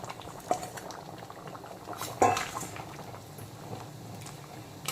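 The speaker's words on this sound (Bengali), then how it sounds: "তো এখন আমি ভেজে রাখা আলুগুলোকে দিয়ে দিচ্ছি গ্রেভির মধ্যে।" Green jackfruit and fried potato curry bubbles steadily in its gravy in a cooking pot, with a soft splash at about half a second and a louder clatter and splash near two seconds as the fried potatoes go in. No one speaks.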